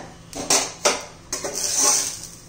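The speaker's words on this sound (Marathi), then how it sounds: "आता झाकण काढूया" A lid is lifted off a cooking pan of garlic-greens aayte, giving a few close metallic clinks and scrapes followed by a soft rising hiss of steam.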